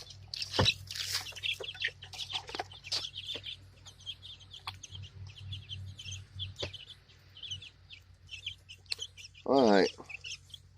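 Free-range backyard chickens cluck softly and intermittently across a quiet outdoor scene, with one louder, drawn-out squawk near the end and faint talk in the background.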